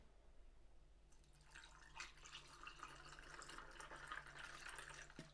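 Quiet room tone, then a steady fizzy pour of mineral water into a glass with ice, lime and mint begins and continues, bubbling and splashing softly until the end.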